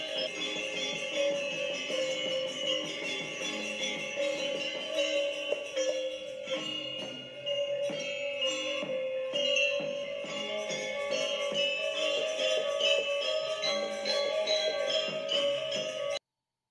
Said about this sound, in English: Here is a video of some young people playing the Gamelan.